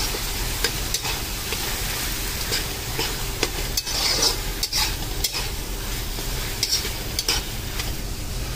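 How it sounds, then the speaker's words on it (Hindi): Tomato sauce, red chili paste, black pepper and vinegar stirred in a hot pan for vegetable noodles, making a loud, close sizzle with repeated scraping strokes of a spoon throughout and no speech. "अभी अच्छे से मिक्स कर लेंगे सबको पहले।"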